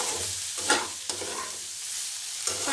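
Raw papaya bhujia fries uncovered in a pan with a constant hissing sizzle, while a few soft spatula scrapes mark the stirring in a short, close take.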